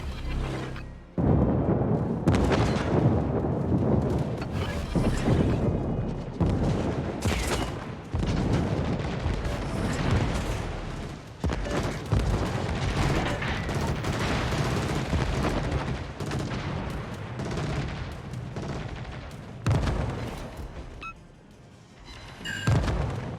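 Naval guns from warships boom in a dense, sustained barrage during a ranked naval battle game, heavy overlapping blasts filling the whole stretch with only brief lulls, loud and close.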